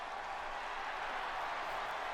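A large arena crowd at WrestleMania V roars and cheers for Hulk Hogan, a steady, dense wash of noise with no breaks, heard from a distance.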